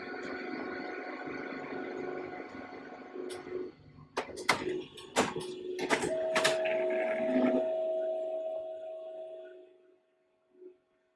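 An HP LaserJet printer suffering from a toner leak hums and whirs, then its roller picks up paper with a series of clicks and clunks, followed by a steady feeding drone that fades out.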